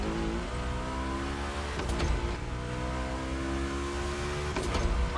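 Volkswagen cars race on a track in The Crew Motorfest, engines droning steadily and rising in pitch as they accelerate, fairly close and continuous, with a couple of brief sharp clicks and no voices.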